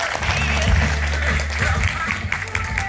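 An audience applauds steadily after a lecture, with a hiss of clapping heard under a host speaking into a microphone.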